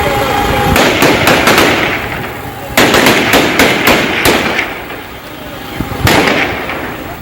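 Gunfire as Taliban fighters break up a street protest in Kabul: loud bursts of sharp cracks in rapid clusters, fading and returning several times amid crowd noise and voices.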